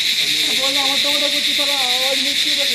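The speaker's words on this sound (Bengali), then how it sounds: "এগুলো কিন্তু ক্রিকেট, মানে ঝিঝি পোকার ডাক" Crickets in a Darjeeling hill forest at Lamahatta at night keep up a steady, piercing high trill, while a voice talks over the drone.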